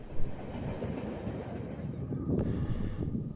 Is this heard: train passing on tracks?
yes